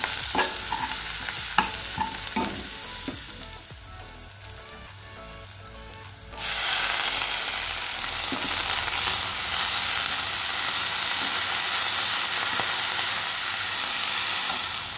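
Methi greens and flat beans frying and being stirred in a pan, with steady sizzling and scraping strokes of a spatula that grow louder and denser partway through, close up with no talk.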